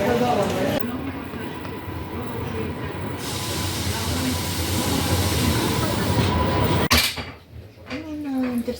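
Intercity passenger train riding along, a steady loud rumble and hiss of the carriage with a sharp clatter near the end, while a person talks over it.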